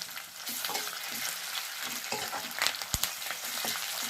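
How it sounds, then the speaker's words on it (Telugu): Ginger garlic paste fries in a pan for chicken fry, a close, lively sizzle broken by rhythmic stirring scrapes and a sharp knock near the end, with no voices. "ఇది బాగా వేసుకోండి, అల్లం వెల్లుల్లి పేస్ట్ పచ్చివాసన పోయిన దాకా వేసుకోండి బాగా"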